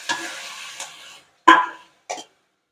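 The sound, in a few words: stirring tomatoes into frying onions in a pan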